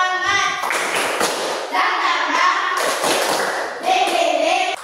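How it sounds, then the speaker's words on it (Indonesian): A class claps a rhythmic cheer pattern in bursts, sharp hand claps alternating with children's chanting voices at close range. "Kita tepuk semangat, pada bisa tidak?"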